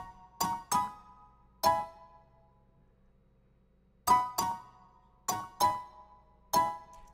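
A synth bell patch layered over pianos for sparkle plays quiet, sparse struck tones in small clusters, each chime decaying quickly into silence.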